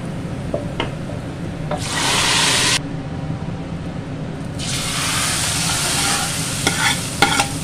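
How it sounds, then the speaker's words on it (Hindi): Lentils (dal) being stirred and mashed in a pot with a utensil, giving steady scraping and rubbing strokes with two longer, louder bursts of churning, close up with no talking. "अब हम दाल को अच्छी तरह घोटेंगे"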